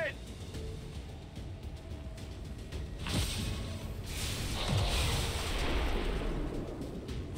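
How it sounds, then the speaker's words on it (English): An explosion in the video game XCOM 2: War of the Chosen gives two loud rumbling blasts a second or so apart, each trailing off into a long noisy roar over a continuous low background. "Thank God for that explosion."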